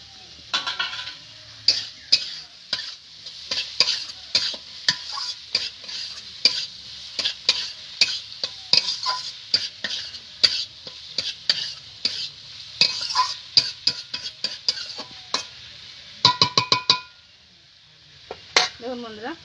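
Chopped tomatoes sizzle and fry in a pan while a spoon scrapes and stirs in steady repeated strokes, with clinks of metal against the pan throughout and a quick burst of rapid scraping near the end, for a spice-and-egg pasta.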